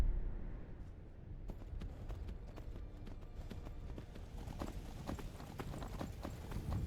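Horse hooves clip-clopping in the Skyrim video game, a steady run of close hoof beats with no talk, over the game's low ambient background.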